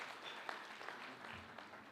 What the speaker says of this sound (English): Can you clap for ACA for marking this?